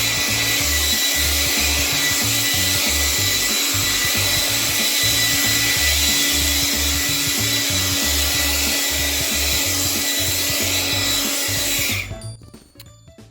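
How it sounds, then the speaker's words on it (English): A blower clears out a garage during a spring yard cleanup after scrap lumber has been cut into firewood. Its loud, steady rushing roar runs close and unbroken for about twelve seconds, then cuts off. "blowing out the garage"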